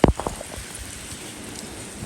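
Steady rain falls outdoors on a farm, a continuous soft hiss throughout after a few brief louder knocks at the start.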